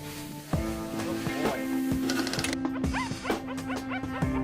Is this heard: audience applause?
no